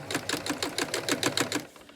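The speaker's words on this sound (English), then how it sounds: "you would sew all the way around the top of your skirt on the waistband facing" A sewing machine edge stitching the facing of a skirt waistband, its needle chattering in a quick, even run of about a dozen stitches before stopping.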